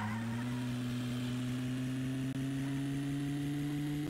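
A car driven in the Broke Protocol video game drones with a steady engine tone that slowly rises in pitch as it accelerates, close and constant with no talk.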